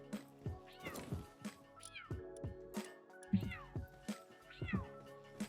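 A noisy cat meows repeatedly and loudly in a steady series of drawn-out calls, close up, with a little talk in the background.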